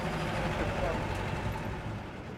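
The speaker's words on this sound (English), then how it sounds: "despite the noise of the bus" Diesel engine of a vintage Mercedes team bus driving through Dakar at night, heard from inside as a loud, steady, unbroken rumble for the whole stretch.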